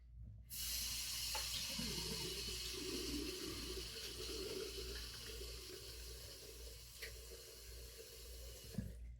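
Tap water running steadily into a sink as a face is wetted before a shave, a continuous close hiss with a faint splash or two and a small clunk at the end.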